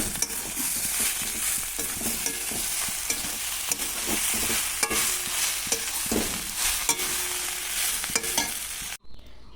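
Banana flower curry with chickpea lentils and peanuts being stirred in a pan with ghee and spices, a steady soft sizzle with scraping strokes of the spoon throughout, close and fairly loud, ending with a brief pause.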